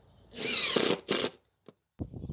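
A power drill drives a screw through a bracket into timber while installing a trellis: a loud sustained whir, a second short burst, a tiny tick, then a lower rougher grinding burst as the screw pulls tight.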